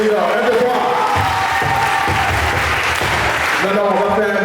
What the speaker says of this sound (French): Alors on applaudit pour la mission du centre et du nord